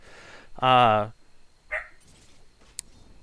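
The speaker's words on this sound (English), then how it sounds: "My dog's barking." A pet dog indoors lets out one loud, drawn-out bark and then a brief, softer yelp, close by in an otherwise quiet room.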